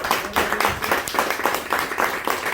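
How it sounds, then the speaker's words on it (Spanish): Church congregation clapping for the Lord, dense rhythmic handclaps at close range, loud and steady across the moment with no speech over it. "Se va a aplaudir al Señor."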